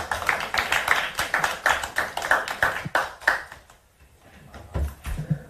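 A small audience at a National Assembly meeting claps to welcome a presentation. The clapping is quick and fairly rhythmic, close and distinct, then fades out partway through, and a few scattered claps follow.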